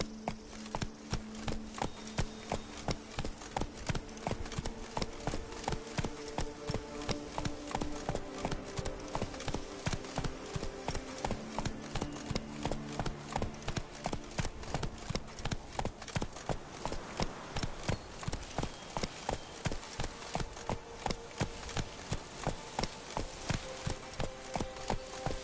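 A horse galloping in The Witcher 3 video game, hooves pounding in a fast, steady rhythm throughout, close and continuous, with faint background game music.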